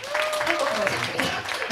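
Crowd applause with scattered claps at an outdoor Pumba festival, steady for under two seconds, with a voice talking over it.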